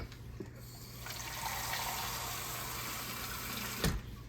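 Water steadily pouring down the side of a crockpot holding pork, a continuous close splashing stream that swells and then ends with a small knock.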